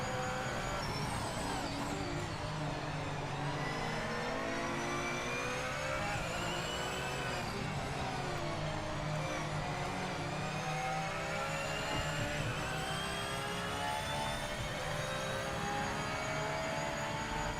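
A Porsche race car engine roars in Le Mans Ultimate, a continuous revving whine that rises and falls with shifting pitch through gear changes, steady and fairly faint.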